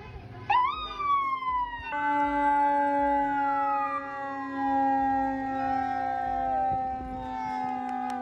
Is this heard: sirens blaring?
yes